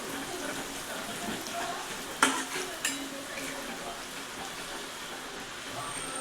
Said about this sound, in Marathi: ते मसाले चांगले भाजले